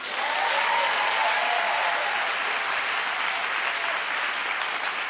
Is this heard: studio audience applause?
yes